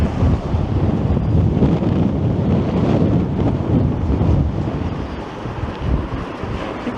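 Cold wind gusting along University Avenue in downtown Toronto at twilight, a steady broadband roar buffeting the microphone throughout with no voices.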